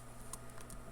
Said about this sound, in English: Let's see how poor my typing is.